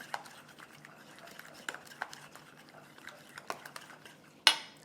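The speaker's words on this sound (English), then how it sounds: "Mix it up again." A spoon clinks and scrapes in a bowl while dairy-free tzatziki with cucumber, kosher salt and pepper is mixed, making a series of quiet taps and clicks close by, ending in one louder knock.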